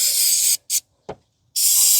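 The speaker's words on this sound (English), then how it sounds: "I'm going to spray some penetrating oil" Penetrating oil sprayed from an aerosol can onto intake air duct screws in the engine bay of a 2015 Toyota Sienna 3.5 V6, loud close hissing bursts: a long spray, a short one, then another long spray after a pause.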